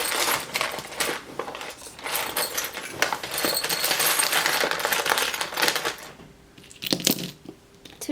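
Small metal charms rattling and being cast for a pick-a-card reading, a dense jangle of clicking and clinking that swells, then scatters with a few sharp final clacks.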